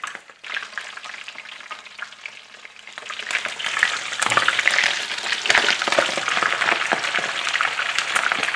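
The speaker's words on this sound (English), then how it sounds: "Hear that sizzle?" Steady crackling sizzle of chicken drumsticks and thighs frying in hot oil, growing louder and busier partway through, with scattered pops; no voices.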